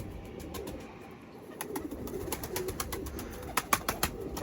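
Mardin pigeons coo in a loft, with soft repeated calls building in the second half over low background rumble, fairly close.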